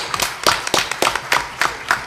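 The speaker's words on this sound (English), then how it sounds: "Let's give another round of applause for Hyundai" Applause at an Emerging Leaders Series talk on urban economics, heard as a sparse handful of sharp, close claps in an uneven rhythm rather than a full crowd.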